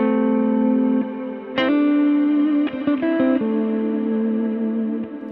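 Sustained guitar notes wash through a Strymon Cloudburst ambient reverb pedal, several plucked attacks blooming into a long shimmering tail that swells, shifts pitch and fades near the end, loud and alone.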